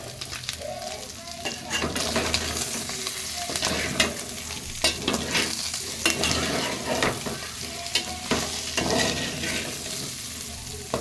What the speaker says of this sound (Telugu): ముక్క చెదరకుండా జాగ్రత్తగా కలుపుకోండి